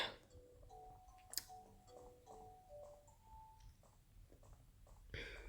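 Steady ticking of a clock inside the video game Scho, quiet and regular, with tonal game beeps and soft background noise around it.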